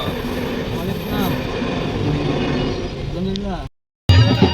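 A local train runs with a steady, loud rumble of rolling wheels and carriage noise, voices talking over it, before a brief cutout and a louder burst.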